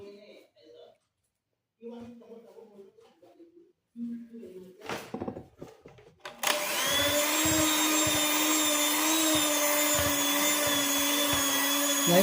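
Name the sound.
electric mixer beating mochi dough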